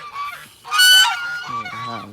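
Loud geese honking, a burst of harsh nasal calls followed by a few more honks nearby.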